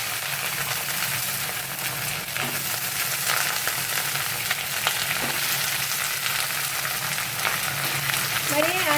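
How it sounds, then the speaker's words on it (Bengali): Potatoes frying in oil in a kadai with cumin seeds and bay leaves, a steady broad sizzle that runs for the whole stretch, with a few faint stirring scrapes and no voices. "আর এই যে আলুগুলো এখন কড়াইয়ের মধ্যে দেবো।"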